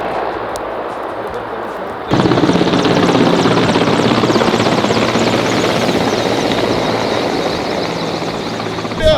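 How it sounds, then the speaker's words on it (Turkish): Firefighting helicopter working over a forest fire, its steady loud rotor and turbine roar rising sharply after a quiet start and holding close and constant, with no talk. "Daha demin helikopterden döktüler böyle oldu."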